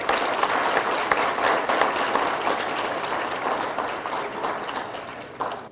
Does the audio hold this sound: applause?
yes